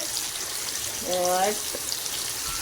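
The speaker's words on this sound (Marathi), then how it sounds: "अशा प्रकारे माझी मम्मी फ्राय करत आहे" Fish frying in a hot pan for a fish fry gives off a soft, continuous sizzle with a brief tonal swell in the middle.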